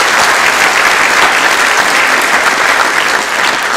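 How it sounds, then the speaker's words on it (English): Loud, sustained applause from a large audience at a National Honor Society induction ceremony, a dense wash of clapping that holds steady throughout. "if we can give them a round of applause."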